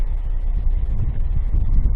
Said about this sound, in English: A little bit windy. I hope the audio is not too bad.